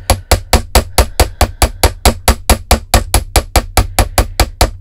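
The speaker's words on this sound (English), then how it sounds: "I don't want to get real aggressive and do like a lot of hammering at once" Steady hammering on wire for handmade earrings at a bead table, some twenty sharp, evenly spaced metallic taps close up, with no talking between the strikes.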